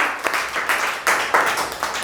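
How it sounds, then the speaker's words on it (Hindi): Schoolchildren in a classroom clap together during a maths lesson, a short burst of uneven, overlapping handclaps in a few surging waves, close and fairly loud. "वेरी गुड, ताली बजाओ।"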